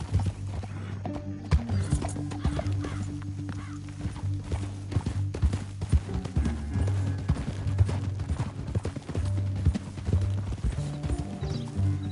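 Horse hooves clip-clop in a steady trotting rhythm in Red Dead Redemption 2, fairly close, with a faint whinny and no talking.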